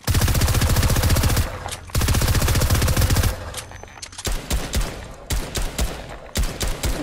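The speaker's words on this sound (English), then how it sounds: "we got these two rapid fire SMGs, and also we got the legendary and epic AK that were added to creative" Rapid-fire SMG bursts in Fortnite Creative mode, loud and close: two long continuous streams of shots, then a string of shorter choppy bursts with brief gaps between them.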